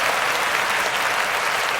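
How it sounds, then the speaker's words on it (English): Steady, dense applause and cheering from a crowd at a live stream show, loud and continuous with no gaps, filling the moment without any talking. "Let me give y'all some cheers here in the crowd."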